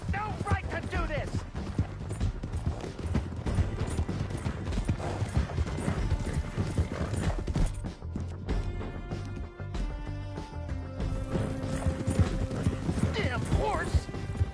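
Horse hooves clip-clopping at a gallop in Red Dead Redemption 2, a steady rapid beat under a full game score with occasional whinnies and voices talking over it.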